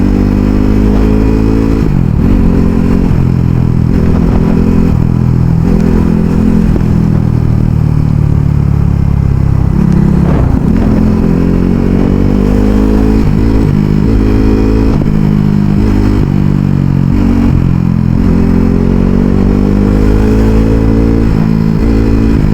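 A Kawasaki Ninja ZX-10R and a KTM RC 390 ride together on the road, their engines loud and close with a constant throbbing drone that rises and falls through repeated revving surges.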